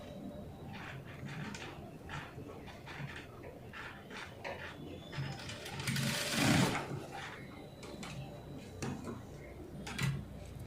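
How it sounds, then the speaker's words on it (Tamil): A sewing machine stitching the lower part of a blouse sleeve runs in short rhythmic bursts of rapid ticking, with a louder, denser stretch in the middle. "இந்த இடத்துல தையல் போட்டுக்கோங்க."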